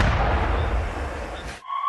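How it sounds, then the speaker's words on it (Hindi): Explosion at a residential building in Kharkiv after a Russian drone strike, a dense, roaring broadband blast rumbling for about a second and a half before cutting off abruptly to a quieter tone. "ड्रोन अटैक के बाद इमारत में देखिए विस्फोट।"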